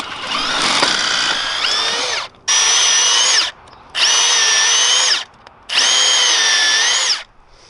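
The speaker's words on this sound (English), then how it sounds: "Now this one on the arm, I'm drilling out." A power drill whines loudly in four bursts with short pauses between, the pitch shifting as it bites into a suspension bushing on a Mazda RX-7 control arm.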